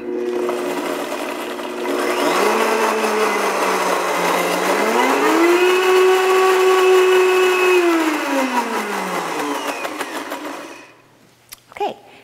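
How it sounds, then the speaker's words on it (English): A kitchen blender whirs through a vanilla granola mixture, a loud steady motor whine that rises in pitch midway, holds, then drops and cuts off, followed by a couple of clunks. "we're going to put this in our blender and blend it till everything's nice"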